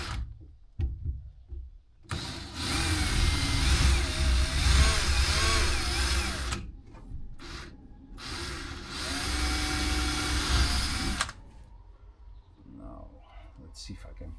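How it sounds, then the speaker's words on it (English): A power drill whirs loudly in two long bursts with a short pause between, drilling holes through epoxy fill on a sailboat, ending with a quieter stretch of handling noise. "And now I need to drill them."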